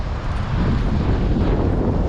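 Cold wind blows hard across the microphone during outdoor fishing, a loud, continuous low rumble that fills the whole stretch without a break.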